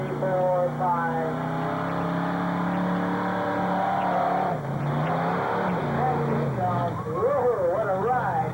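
Monster truck at a Byron Days event roaring through a ride, its engine droning loudly with rising and falling revs, heard from the crowd with some talk over it.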